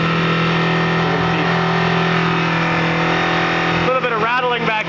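A Honda VFR motorcycle engine held at a steady high rev near 5,000 RPM, loud and continuous, then easing slightly as someone speaks over it near the end.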